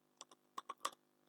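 Five quick, separate keystrokes tapped on a computer keyboard while data is entered into a form, each click short and fairly faint against a quiet background.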